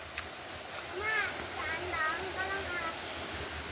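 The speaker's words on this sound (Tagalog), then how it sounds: "Narating na namin ang falls." A steady rushing hiss of a waterfall reached on a family hike runs throughout, with people, including a child, calling out excitedly over it.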